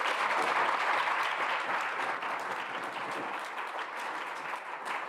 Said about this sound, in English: Another warm round of applause.